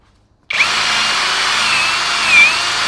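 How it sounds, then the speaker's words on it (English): A Harbor Freight power drill running on high speed starts abruptly and holds a loud, steady motor whine with no talk over it. "Harbor Freight drills are not the greatest"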